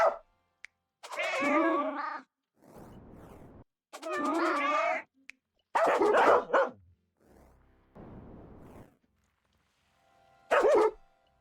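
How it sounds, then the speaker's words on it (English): Cats and dogs in the WorldBox video game meow and bark in short separate bursts, loud and near, with brief silences between the calls and no talk. "I'll get some cats in there and some. Every civilization gets a bit of cats and dogs."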